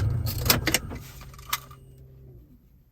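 Keys jangle and clink close by as a car is switched off, a few bright metallic bursts up front, then one more rattle before the sound fades into quiet.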